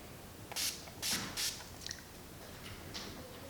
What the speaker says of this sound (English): when I use this product, I don't directly spray it on my face